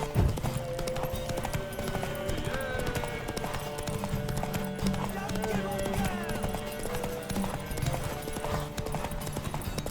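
Rapid, continuous clip-clop of galloping horse hooves in the video game The Witcher 3: Wild Hunt, mixed with music and background noise, with a voice calling out over the rhythmic pounding.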